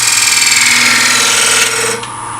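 Wood turning on a lathe, a skew chisel hollowing a hole in the center of a segmented turning with veneer spacers: a steady, loud whirring scrape with high ringing tones that shifts and softens near the end.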